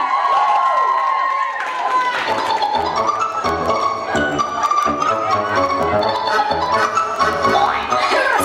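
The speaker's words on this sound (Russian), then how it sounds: "Аплодисменты!" A crowd at a dance cover performance claps and cheers continuously, loud and dense, with shouts rising over the noise.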